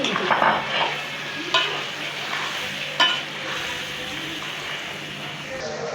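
Tilapia pieces fry in a pan for a curry with banana and potato, with a close, steady sizzle and a few distinct spatula scrapes as the fish is stirred.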